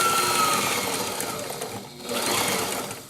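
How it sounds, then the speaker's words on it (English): A sewing machine runs a lock stitch on a throw pillow, a close, steady mechanical whir that dips briefly in the middle before picking up again. "I'm going to go ahead and do a lock stitch here just in case."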